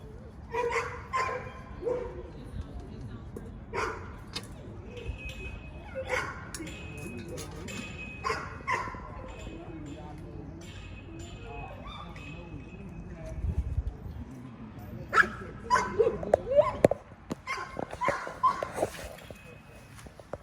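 A Presa Canario dog barks in repeated sharp bursts and whimpers, growing louder and more frequent toward the end, with people talking in the background and clip-clop-like knocks.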